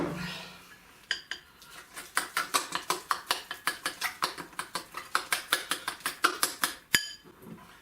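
Spoon beating sweetcorn fritter batter in a bowl, giving a fast, even run of close clinking strokes against the bowl's side with a pause near the end, and no talk.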